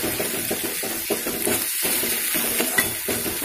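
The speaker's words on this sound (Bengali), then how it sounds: "পোস্ত বাটারটা দিয়ে ভালোভাবে কষিয়ে নিতে হবে।" Katla fish and poppy seed paste sautéing in a pan, a continuous close sizzle broken by repeated scraping stirs of a spatula at a steady rhythm.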